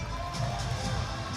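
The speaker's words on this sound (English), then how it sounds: "Sri Lankan crowd building up. They are excited." Continuous crowd noise from an excited Sri Lankan audience at a youth boxing bout at the Asian U22 and Youth Boxing Championships, a steady murmuring roar of moderate, distant loudness.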